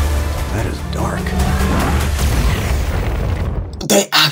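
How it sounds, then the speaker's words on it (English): Movie trailer explosion as the Eclipse Cannon blows up half the moon: a deep booming roar that swells under score-like tones, then breaks into a sharp loud burst near the end. "He's blowing up half the moon"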